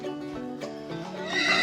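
A cartoon horse neighs in a short, bright whinny that rises into a shrill, breathy ending, heard close and clear with no talking over it.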